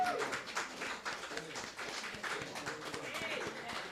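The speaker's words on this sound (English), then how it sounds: "Give yourselves a round of applause." A live audience at a community words-and-music gathering claps steadily for about four seconds, a dense patter of hands with some voices mixed in.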